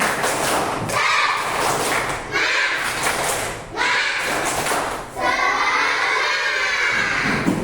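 Schoolchildren in a classroom clap and shout a rhythmic spirited chant together, loud and close, with bursts of claps and voices in several short phrases.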